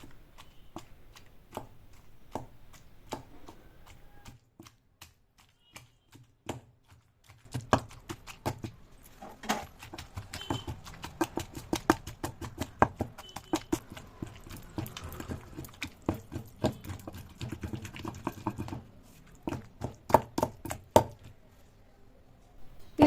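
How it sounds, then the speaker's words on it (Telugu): Fried ridge gourd pieces being pounded and ground in a stone mortar for a Telugu chutney, giving a steady run of close, irregular thuds and crunchy grinding strokes that grow busier and louder partway through, with no talk. "మనం ముందుగా వేయించుకున్న బీరకాయ ముక్కల్ని కూడా వేసుకొని ఇప్పుడు దీన్ని కూడా పూర్తిగా నలిగే వరకు నూరుకోవాలి"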